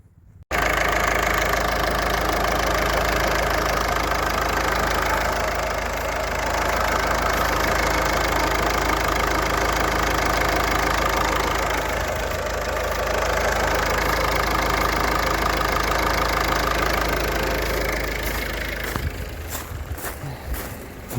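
A Ford Focus 1.6 TDCi diesel engine idles steadily with a constant low rumble and mechanical chatter for about twenty seconds, then a few sharp clicks near the end.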